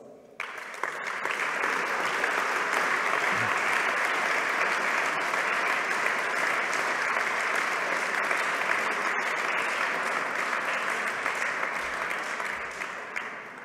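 Sustained audience applause fills a hall at a prize presentation ceremony, a broad, even wash of many hands clapping that holds steady for over ten seconds before tapering slightly.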